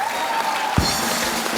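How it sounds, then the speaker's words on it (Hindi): A studio audience at The Kapil Sharma Show claps in a steady, dense burst of applause, sustained and fairly loud throughout. "तो ताली बजाओ, बोले क्या शायरी दी है।"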